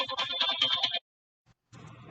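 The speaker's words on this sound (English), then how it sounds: "I thought my phone was on vibrate and it started ringing." A mobile phone ringtone sounds loudly for about a second as a bright, steady electronic tone over a rhythmic pattern, then stops; after a short silence a softer, fuller sound returns near the end.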